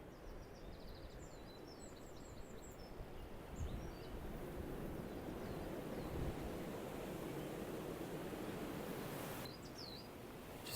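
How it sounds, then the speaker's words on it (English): Wind gusting through the bay at Bonchurch on the Isle of Wight, a faint steady rushing hiss with surf-like wash and brief birdsong in the distance. "It's pretty windy down in the bay."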